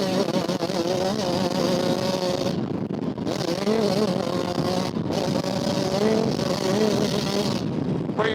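A 2020 Yamaha YZ125X two-stroke dirt bike screams at high revs on the pipe, pitch wavering with brief cuts between gears, close, loud and continuous.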